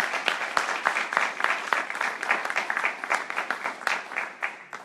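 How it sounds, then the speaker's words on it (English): A scattered crowd of people claps for political candidates at a community forum, a steady patter of many hands at moderate loudness, fading slightly toward the end. "Let's give a round of applause to all of our candidates."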